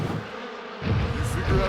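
A swarm of cartoon bees buzzes in a thin, wavering drone, growing louder midway through and mixed with other animated sound.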